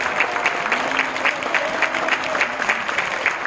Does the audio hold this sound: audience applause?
yes